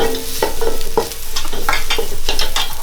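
Beef curry with garam masala is stirred in a pan, loud close scraping and clattering strokes in an uneven rhythm over a steady sizzle, no talking.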